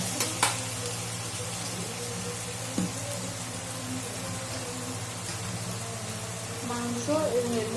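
Meat added to a pan of cooked spiced masala sizzles continuously, a steady crackling fry with a low hum underneath, a few clinks of stirring and a voice talking faintly over it near the end.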